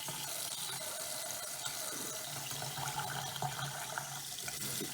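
Water runs steadily from a camper sink faucet, a continuous hissing rush with gurgling splashes, while pink antifreeze is flushed from the lines until the water runs clear.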